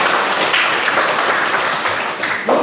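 Students in a classroom applauding their classmates, a broad steady wash of clapping throughout with a brief swell near the end.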